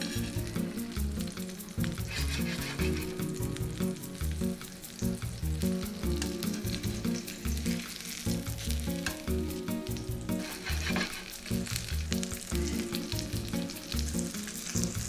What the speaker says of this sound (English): And right into the pan. Perfect. Just 2 minutes on each side until it's golden brown.